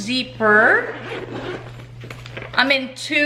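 A toiletry bag's zipper is pulled in quick, loud rasping strokes, close up, with someone talking over and between the zips.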